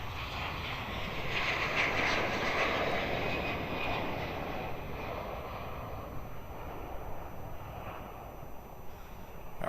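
A Sri Lankan airliner's jet engines roaring on takeoff at Melbourne Airport, a broad distant rumble that swells and then slowly fades, with no talk.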